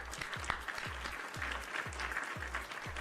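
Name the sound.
applause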